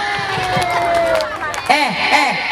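Children in an audience at a Maulid Nabi sermon clap and cheer, a dense continuous wash of applause and high shouting voices with a couple of louder rising cheers near the end.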